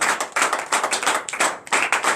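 A church congregation claps in acclamation during a morning prayer service in Benin, producing dense, lively, close-up handclaps that swell in uneven bursts.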